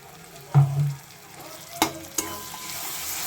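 Spice paste of turmeric, chilli, cumin and coriander powders fries in oil while a spoon stirs it, giving a soft sizzle with one dull scrape and a few crisp clinks against the pan.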